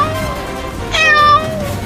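A cat meows once, loud and close, a short rising-falling cry against a low household background, during a playful family scene where the cat is stalking a bird.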